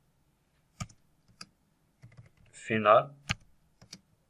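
Sparse keystrokes on a computer keyboard while code is entered in Android Studio, a few isolated clicks spaced apart, with a brief spoken word in the middle.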